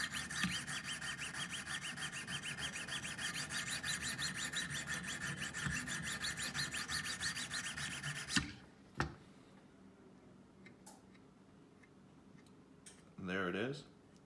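A knife is sharpened on a Wicked Edge guided sharpener with steady rhythmic rasping strokes for about eight seconds, then it stops with a couple of clicks and a short final scrape, while a person talks.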